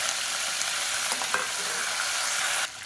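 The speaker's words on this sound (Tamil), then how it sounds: "இப்போ இது எல்லாமே நல்லா பொரிய ஆரம்பிக்குது" Whole spices sputter in hot oil with handfuls of mint and coriander for a wedding-style biryani, a steady close sizzle with faint stirring scrapes before the hiss drops off at the end.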